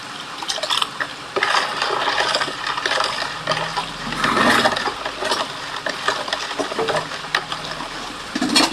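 Homemade village juice stirred in a container, continuous sloshing and scraping with irregular clinks and knocks, fairly close and alone.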